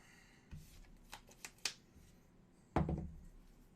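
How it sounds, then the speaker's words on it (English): A card drawn and slid from the deck in the Booker Mania card game, a few soft papery flicks and taps followed by a louder, fuller card rustle, close and quiet in an otherwise still room. "Drawing a card."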